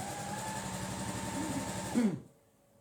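A sewing machine stitches quilt pieces of a mini double star quilt with a rapid, steady mechanical whir, close and even, stopping abruptly near the end before a brief click.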